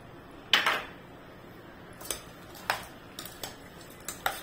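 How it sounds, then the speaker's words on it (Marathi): A spoon clinks and scrapes against a bowl while mixing masala oli bhel with chaat masala, a few separate light taps spread out at a steady pace, close and fairly quiet, with no voices. "छान असं एक सगळं एकजीव करून घ्यायचं."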